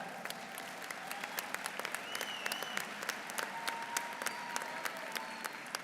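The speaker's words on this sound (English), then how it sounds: "I appreciate that round of applause" A graduation audience claps at a university ceremony, heard fairly faint and distant, a continuous patter of many hands with sharper individual claps popping out and a few whoops above it.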